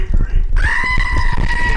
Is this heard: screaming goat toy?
yes